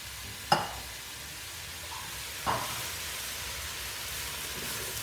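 Onions and apples sautéing in a pan for red cabbage, a soft continuous sizzle with two sharp clatters of a utensil against the pan near the start.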